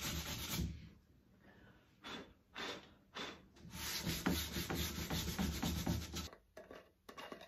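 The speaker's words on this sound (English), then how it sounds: "I just have a little piece of 120 grit sandpaper which I'm using to distress the edges." Coarse strokes of 120 grit sandpaper rub along the edges of a chalk-painted wooden furniture frame to distress it, coming in bursts of steady scratchy sanding separated by short pauses, close and alone.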